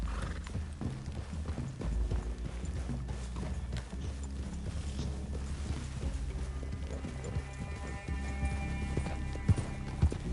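Horses clip-clop at a steady walking gait with an occasional whinny in Red Dead Redemption 2, set near a forest clearing, hooves close and continuous over a low ambient background with no speech.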